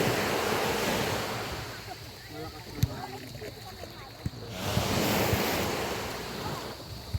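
Gentle surf washing ashore at Anawangin Cove on a calm evening, a steady soft wash of small waves swelling and receding, with wind buffeting the microphone and faint voices in the distance.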